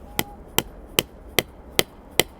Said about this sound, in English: Take your mallet or your hammer.